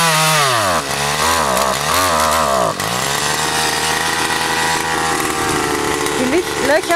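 A powered earth auger bores planting holes in garden soil for a zucchini trellis, its loud engine droning steadily with pitch dips as it bites in, close and continuous for several seconds.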